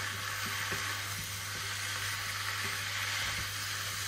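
Meat and vegetables for a vegetable bolognese sizzle steadily over high heat in a sauté pan, a continuous close hiss with a low constant hum underneath and a few faint stirring knocks.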